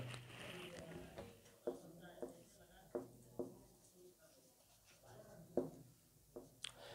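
Chalk writing a definition on a classroom blackboard during an engineering lecture on petrol engines: a series of short, distinct scratches and taps in uneven rhythm, fairly close, with a man's speech between strokes.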